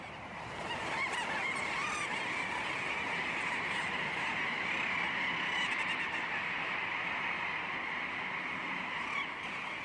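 A dense colony of seabirds calls nonstop in the Scandinavian Arctic, countless overlapping honking and chattering cries forming a loud, steady chorus with no talking.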